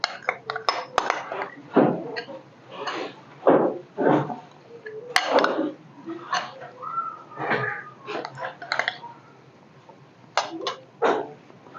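Cream being mixed into a fruit salad in a bowl makes a steady run of spoon clinks and scrapes against the dish, close and fairly loud, in irregular bursts.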